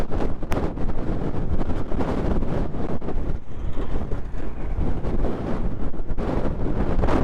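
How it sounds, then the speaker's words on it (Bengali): Strong mountain wind roars loud and continuous on the road from Jomsom to Muktinath, buffeting the microphone with heavy low rumble and no voices. "তার সঙ্গে প্রচণ্ড গতিতে হাওয়া বেরোচ্ছে, প্রচণ্ড গতিতে বাইকের হ্যান্ডেল পর্যন্ত বাঁকিয়ে দিচ্ছে, এত হাওয়া, মারাত্মক লেভেলের হাওয়া।"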